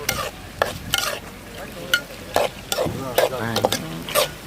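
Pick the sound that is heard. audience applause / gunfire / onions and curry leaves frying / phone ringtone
onions and curry leaves frying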